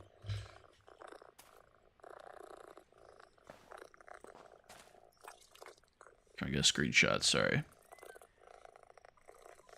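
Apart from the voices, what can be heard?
cat in a video game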